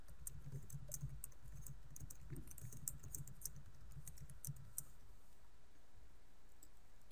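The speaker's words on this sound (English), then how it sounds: "To retrieve a MARC record, click the .mrc button." Quiet, scattered clicks and keyboard taps from a computer, faint and close, coming in small irregular bursts with no one talking.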